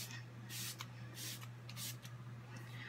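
Smashbox Photo Finish Primer Water is misted onto a face in four quick hissing spritzes, evenly spaced, soft and close, over a faint steady background hum.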